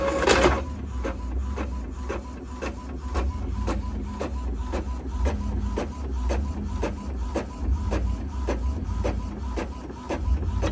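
A home printer runs through a sticky-note printing job, its rhythmic mechanical chatter and repeated clicks of the print head continuing steadily throughout at close range, with a low rumble beneath.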